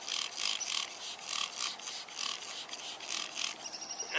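A scrub brush rasps over rough stone in steady back-and-forth strokes, about ten rhythmic scratchy sweeps, close and fairly quiet with no talking.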